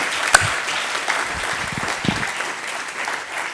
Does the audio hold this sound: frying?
no